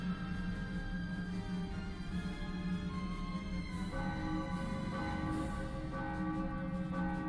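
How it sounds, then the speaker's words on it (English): A stock bell sound effect in a game, sustained ringing tones layered over steady background music, moderately loud throughout with no talking. "I recognize that stock sound effect of a bell."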